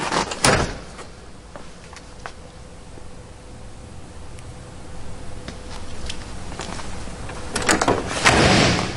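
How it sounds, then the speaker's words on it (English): A 1967 Pontiac GTO's car door swings open with a sharp thunk, a quiet pause follows, then the door is shut again with a couple of solid slams. "Doors open and close with ease."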